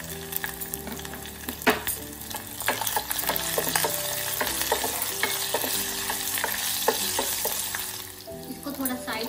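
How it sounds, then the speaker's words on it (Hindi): Food fries in a pan for Odisha-style kanji, giving a steady close sizzle with intermittent clinks and scrapes from stirring throughout. "इसको गोल्डन ब्राउन में फ्राई करेंगे।"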